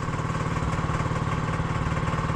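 A gasoline grass cutter engine runs steadily and loudly close by on a mango farm, with a continuous rhythmic throbbing drone and no pauses or voices.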